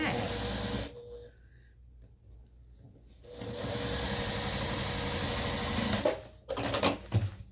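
A sewing machine stitches a mini apron in two bursts of steady whirring, with a quiet pause between them and some brief clatter near the end.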